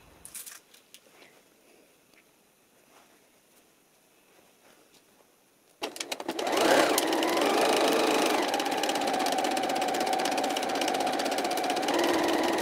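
A sewing machine runs steadily stitching a trouser seam 1 cm from the edge, starting loud around six seconds after a quiet stretch of faint handling sounds and continuing as a sustained mechanical hum.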